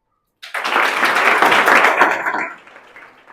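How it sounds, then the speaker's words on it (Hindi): A crowd of students breaks into loud, dense clapping after near silence, holding steady for about two seconds before tapering off. "अपने लिए ताली बजाओ"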